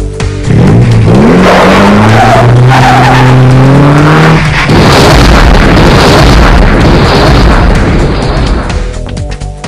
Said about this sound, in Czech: A zde vidíte model autonehody.